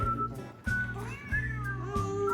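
A cat meows close by in a Thai home, a drawn-out, rising call over a steady low hum, with little talking around it.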